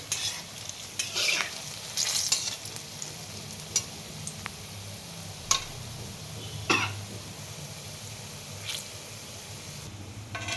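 Palm fruit fritters (taler bora) frying in hot oil give a steady soft sizzle, broken by a few sharp clinks and scrapes of stirring, close by and with no talk.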